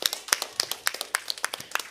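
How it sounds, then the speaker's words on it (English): A small group of children and adults clap at a church Vacation Bible School session, producing a quick, uneven run of sharp, close hand claps that lasts about two seconds. "give yourself a round of applause"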